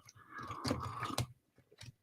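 A dog, probably a greyhound, gnawing and crunching on something at home, with close, irregular bites and crunches separated by short pauses, fairly quiet.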